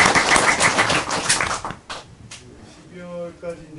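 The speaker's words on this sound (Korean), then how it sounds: "박수" An audience clapping, a dense burst of applause that tapers into scattered claps, with a voice speaking over the end.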